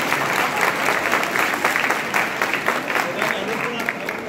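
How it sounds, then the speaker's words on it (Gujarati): Audience applause at a Jain chaturmas entry gathering in Devlali, a dense wash of clapping that swells and holds steadily throughout, with some crowd voices mixed in. "સેવા એકવાર તાળીઓ તો પાડો."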